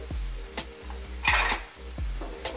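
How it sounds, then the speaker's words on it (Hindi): A spoon mixing kasuri methi into besan in a metal pan, scraping and clinking strokes repeating in a steady rhythm, close and fairly quiet, with one brief louder scrape. "और इसको हम मिक्स कर देंगे। इसमें हम कसूरी मेथी भी डाल देंगे"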